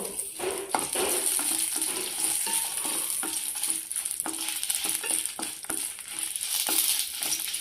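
Spices frying and sizzling in a little oil for mango chutney, a steady close hiss with stirring scrapes and occasional utensil clicks against the pan, and no talking.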